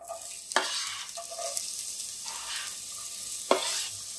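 Onions sizzling in about four tablespoons of hot oil for a chicken curry, a steady soft fry with a few sharp scraping stirs of a spoon against the pan, close and fairly quiet with no talking.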